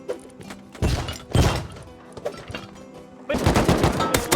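Jackhammer in the Rust video game, heard as loud, close bursts of rapid hammering thuds separated by short quieter gaps, the final burst the longest and most sustained.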